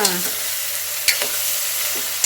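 Bitter gourd fries in a little oil with a close, continuous sizzle, broken by a few sharp stirring scrapes against the pan.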